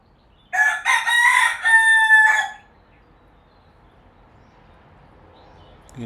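A rooster lets out one loud, close crow lasting about two seconds, followed by near silence.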